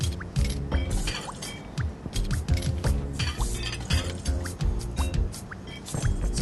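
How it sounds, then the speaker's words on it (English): Water is swished and poured while washing rice in a bowl for nasi lemak, close, busy sloshing and clattering grains with irregular splashes throughout. "I'm going to wash the rice a little bit,"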